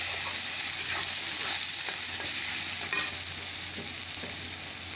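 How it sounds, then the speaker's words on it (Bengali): Chopped onions sizzling in a pan, a continuous bright frying hiss with scattered spatula scrapes and stirs, fairly close and unbroken by talk. "পেঁয়াজ কুচি দিয়ে দিলাম"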